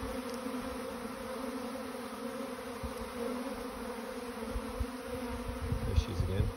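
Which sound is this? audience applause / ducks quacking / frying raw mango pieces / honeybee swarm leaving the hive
honeybee swarm leaving the hive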